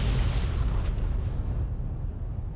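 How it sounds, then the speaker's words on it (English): Heavy rumbling explosions from the Fallout: New Vegas video game, a loud continuous deep boom with crackling debris that fills the whole short stretch and slowly tails off, with no talking over it. "Just setting off explosions."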